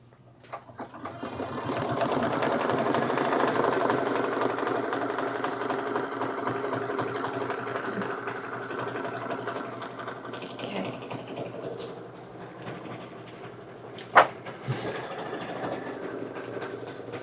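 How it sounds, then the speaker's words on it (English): An embroidery machine stitches a bean stitch over a satin stitch, a fast, steady mechanical whir and needle chatter that runs on close by, with one sharp knock near the end. "So now it's just going to do a bean stitch over top the satin stitch for a little extra flair"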